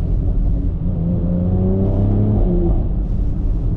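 A BMW X3M with a single midpipe revs its engine and exhaust on a rainy drive, a loud, steady, close droning rumble that swells upward in pitch and holds throughout, with no talking.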